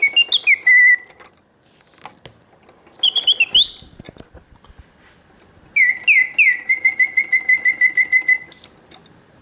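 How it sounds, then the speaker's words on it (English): A Karl Griesbaum mechanical singing bird cage automaton whistles in clear, bright bursts of warbling, trilling notes with rapid chirps. Three song phrases are separated by short pauses with faint mechanical whirring. "the bird sings with full voice, hitting all of the proper oscillating notes"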